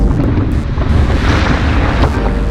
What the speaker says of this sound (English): we didn't know when we would get the wind gust